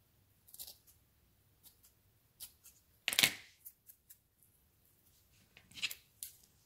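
Scissors snip horsehair bracelet elastic in several short, crisp cuts with pauses between them, close and fairly quiet, one snip noticeably louder than the rest.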